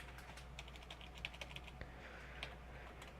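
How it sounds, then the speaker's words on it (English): Fast, uneven keystrokes clatter on a computer keyboard while someone writes a Java if-else print statement, close and fairly quiet over a steady low hum, with no one speaking. "I'm sorry you guys have to witness this awful typing."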